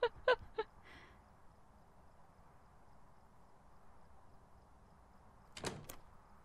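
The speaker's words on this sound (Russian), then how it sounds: "Дверь закрывает, падла." In the Phasmophobia ghost-hunting game, a ghost closes a door. Faint clicks and knocks open the clip, then quiet room tone, and the door shuts with a short, fairly loud thud-and-rattle near the end.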